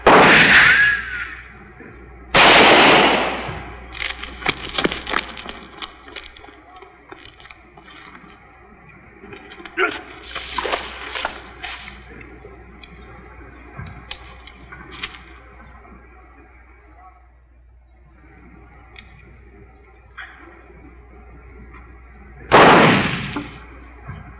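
Gunfire in a western TV episode: a few sharp, loud shots ring out at irregular intervals, spread across the stretch, with quieter clatter and background noise between them.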